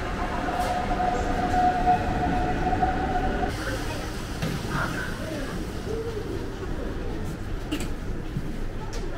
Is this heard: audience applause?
no